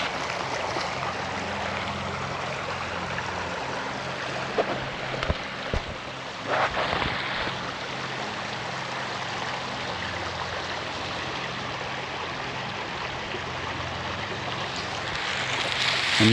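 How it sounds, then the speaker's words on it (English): A babbling stream in Mounts Park, Morrow, Ohio, rushing water forming a steady, broad wash close by, with a few faint knocks and no talk. "the stream, the babbling noise of water rushing"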